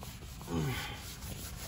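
A towel scrubs a wood floor after a cleaner spray, giving one short, close, rasping rub that rises and then fades.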